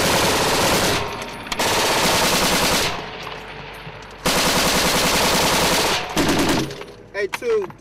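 Sustained bursts of M240 machine gun fire in combat in Iraq, loud and close, with long rattling strings of shots separated by brief pauses and a faint voice near the end.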